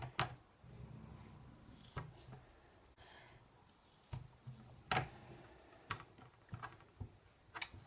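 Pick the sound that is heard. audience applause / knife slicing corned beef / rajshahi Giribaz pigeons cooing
knife slicing corned beef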